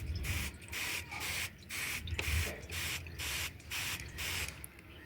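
Sunflower seeds soaking in a tray get misted with water from a hand sprayer, about nine short hissing bursts in steady rhythm, close up and alone.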